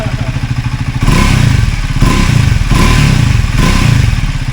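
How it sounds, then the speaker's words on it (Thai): A loud Triumph Speed 400 motorcycle engine with an aftermarket racing air filter idles close by with a pulsing throb, swelling in repeated revs with a rough, breathy intake rush each time. "ได้ยินเสียงดูดนะ ฟังดีๆดิได้ยินเสียงดูด"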